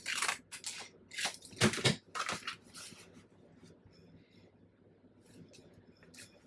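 Scissors snip and crunch through paper for a handmade vintage travel journal, several close, crisp cuts early on, fading to light rustling and a few faint snips.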